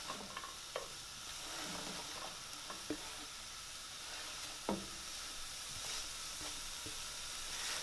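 Greens cooking in a pan for a tabbouleh-style salad give a steady close sizzle with occasional sharp clicks and scrapes of stirring, with no talk over it.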